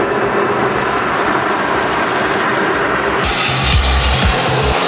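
Repaired rear electric drive motor of a Tesla Model running steadily, a continuous even whir and hum with a slight low rumble change partway through, loud and close with no voices.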